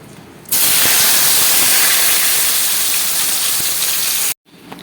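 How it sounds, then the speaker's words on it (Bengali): Steamed, drained elephant-foot yam pieces hit hot oil in a wok, setting off a sudden loud, steady sizzling hiss that holds for about four seconds before cutting out abruptly. "এবারে ভাপিয়ে রাখা মানকচুগুলো জল সরিয়ে রেখেছিলাম, এটাকেও একটু হালকা তেলের উপরে নেড়ে নেব।"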